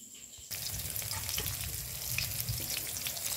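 Catla fish fries in hot oil, a loud, continuous crackling sizzle that bursts in suddenly after a quiet start and holds steady to the end, with no talking.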